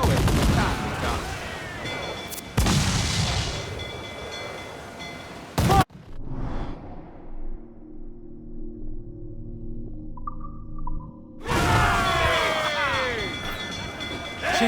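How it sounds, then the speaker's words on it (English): Ship cannons firing in Assassin's Creed IV Black Flag during a naval battle: loud booming broadside blasts in heavy bursts, then a quieter stretch of low rumbling and creaking wood, followed by another roaring volley at the end. "Fire what cannons you will, and land a few strikes if you must."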